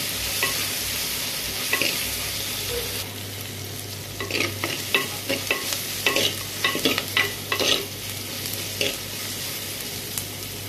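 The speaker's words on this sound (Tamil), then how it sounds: "சேர்த்து அதையும் நல்லா வதக்கிக்கலாம்." Chopped tomato sizzles gently in a pan while being stirred for brinjal drumstick sambar, a quiet fry hiss broken by a series of scraping, knocking stirs that cluster in the middle and later part, with no talk.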